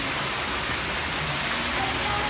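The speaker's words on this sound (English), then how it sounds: "That waterfall I was talking about" Waterfall at a mini golf course, a steady loud broadband rush of falling water that fills the whole clip without pause.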